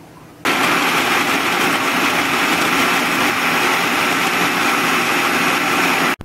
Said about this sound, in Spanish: Colocamos los aliños en el procesador y procesamos.